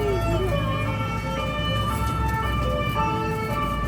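An ambulance siren wails in a rising and falling pattern over street traffic, fairly close and steady throughout, with faint voices nearby.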